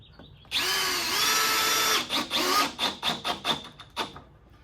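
A power drill drives deck screws into free pallet boards for garden planters, one long whirring run followed by a string of short trigger bursts, close and clear with no talking.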